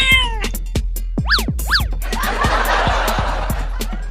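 A cartoon cat yowls and meows in quick, loud rising-and-falling cries, several in a row, followed by scratchy scrambling noises and chattering sounds.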